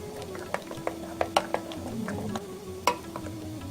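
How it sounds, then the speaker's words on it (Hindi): A spoon stirs lemon juice into saffron-coloured dhokla batter in a bowl, a series of light clinks and taps against the container with soft wet mixing in between, fairly quiet and close, without speech. "इसमें हम नींबू का रस डालेंगे। इसे मिक्स कर देंगे।"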